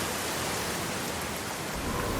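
A storm rumbles with steady broadband rain-like noise and a low thunder roll swelling near the end, loud and continuous, with no voices.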